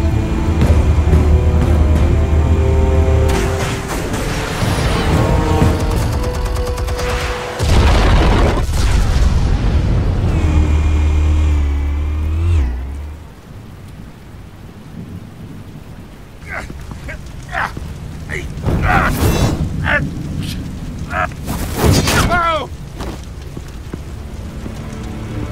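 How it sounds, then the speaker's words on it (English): Explosives go off in the Batman Telltale Series game, with loud, booming blasts followed by a rumbling, crackling aftermath and scattered debris, then quieter sharp bursts near the end. "Explosives armed. Fire when ready."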